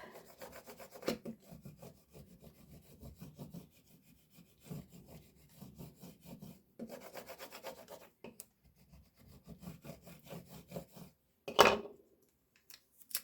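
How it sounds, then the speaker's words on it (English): A tool scrapes transfer tape onto a handmade ornament in repeated, rhythmic rubbing strokes, close and fairly quiet, in several bursts with short pauses and a sharper scrape near the end. "Set it on there and then give it another scrape."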